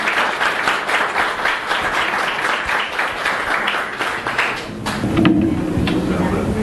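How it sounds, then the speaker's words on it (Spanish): Audience applause welcoming Dr. Mauricio Díaz, a certified public accountant, at a virtual IFRS congress: a steady wash of clapping that thins toward the end as a low voice begins. "vamos a recibirlo con un fuerte aplauso"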